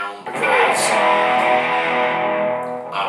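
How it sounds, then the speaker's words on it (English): An Ibanez GIO electric guitar on a metal setting plays a heavily distorted sustained chord with chorus and reverb, loud and ringing out alone before fading slightly, with a brief pick noise at the end. "I'm going to go through some dirty sounds with you now. I am on the metal setting."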